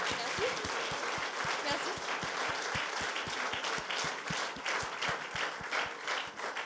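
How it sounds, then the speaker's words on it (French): Audience applause for an award winner at an engineering inventor prize ceremony, a sustained wash of clapping with a steady rhythmic beat of deeper claps running underneath the whole time. "Vous pouvez l'applaudir, évidemment."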